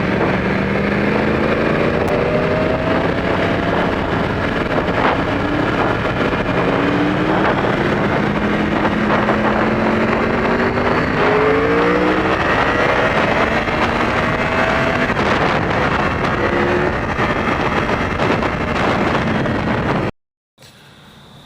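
A Yamaha R1 sport motorcycle accelerating hard up an on-ramp on a demo ride from a Falls Church, Virginia dealer, its engine note rising through the gears, loud and close under heavy rushing wind noise, cutting off abruptly near the end.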